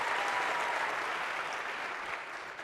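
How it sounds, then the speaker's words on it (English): A lecture hall audience at an introductory computer science class breaks into applause, a dense, steady clapping that carries for a couple of seconds and tapers slightly at the close. "a round of applause here if we could, too"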